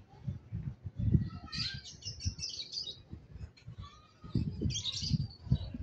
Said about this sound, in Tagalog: Sana mga kaibon, mga ka-Stanley Boy, itong ibon na to hindi magkasakit hanggang sa matapos ang karera.